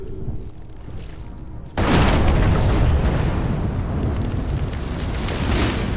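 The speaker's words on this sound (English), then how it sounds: "Now that is how you shape an explosion" In the video game Evil West, a quiet stretch breaks into a sudden loud explosion boom at about two seconds, followed by a long rumbling roar of debris that slowly settles.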